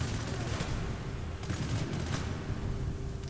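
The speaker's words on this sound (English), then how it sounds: "Let's use the machine gun" Sustained machine gun fire in the violent PC shooter Hatred, dense and continuous with rapid overlapping shots and low rumble throughout, loud and near, no voices.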